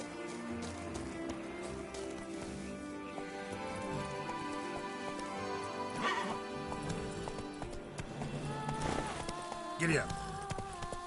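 Horse hooves galloping in a video game, a steady rhythmic clip-clop running throughout amid layered game music, with a whinny and a few sharper hits near the end.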